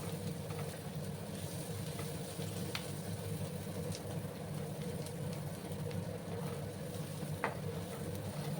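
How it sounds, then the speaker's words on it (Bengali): Onions frying in a pan for a spicy dry potato and pointed gourd dish, giving a faint, steady low sizzle that runs evenly the whole time over a soft background hum, with no voices. "একটু সময় আমি ভেজে নিচ্ছি পেঁয়াজগুলোকে।"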